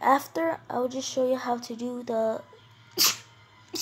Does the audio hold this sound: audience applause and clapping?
no